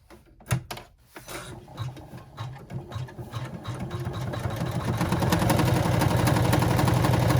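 An embroidery sewing machine stitches a snap tab, starting with a few scattered thumps and then settling into a steady, loud, rapid mechanical whir of needle strokes that builds and holds to the end, with no talking.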